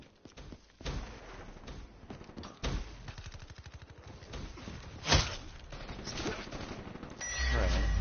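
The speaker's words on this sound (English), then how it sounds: "Alright, let's see what the shotgun can do." Shotgun blasts in Call of Duty Black Ops 3, several loud sharp reports at irregular intervals amid steady game background noise and effects.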